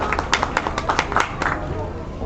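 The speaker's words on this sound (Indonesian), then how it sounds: "Tepuk tangan untuk Leli Lita." An audience claps at a graduation exam for Islamic boarding school students, a short burst of scattered, uneven claps with some talk mixed in.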